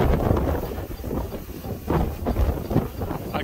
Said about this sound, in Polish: Podmuchy wiatru są bardzo duże.